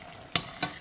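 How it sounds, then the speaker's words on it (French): Chicken pieces going into very hot oil for frying, two brief sharp sizzling bursts, close and fairly loud, with a quiet pause between them. "je passe à la friture de mon poulet"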